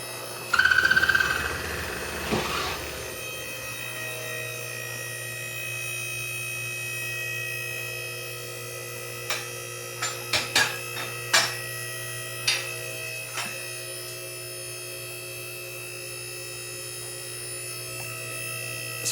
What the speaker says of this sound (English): This quick jack's amazing.